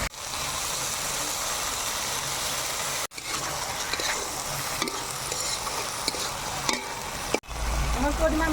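Banana flower frying in spiced oil in a pan, a continuous close sizzle with scraping stirring strokes running throughout and two brief breaks, with no talking.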